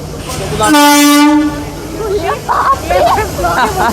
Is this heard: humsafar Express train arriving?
yes